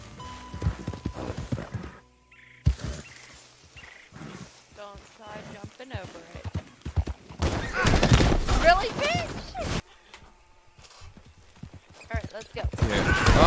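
Horses in Red Dead Redemption 2 clop and whinny in bursts amid game sounds, with excited talk running over them throughout.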